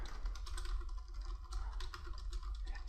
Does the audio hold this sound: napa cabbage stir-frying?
no